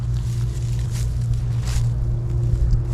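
A farm tractor engine idles in a steady low drone, with faint wind noise over the top and no talk.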